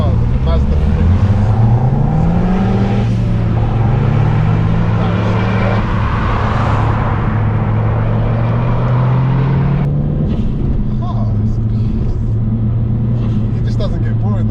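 A Mazda3 MPS with a 2.3 turbo engine is driven hard, its loud droning engine note rising and falling through the gears in a steady cabin rumble, with people talking over it.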